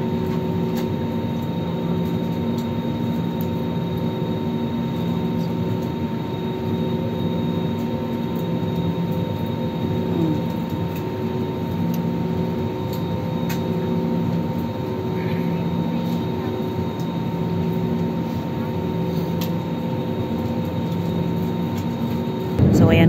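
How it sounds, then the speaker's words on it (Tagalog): Steady low engine roar and cabin hum inside an airliner climbing after takeoff, a constant near drone with a faint tonal whine and no talk, swelling slightly at the very end. "tuluyan ang umakyat ang ating sinasakyang eroplano. At tayo ay nasa Himpapawid"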